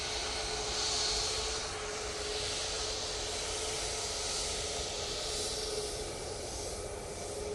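A Ryanair jet at Manchester Airport on a misty morning, a steady loud roar and hiss of engines close by that holds level throughout with no talk over it.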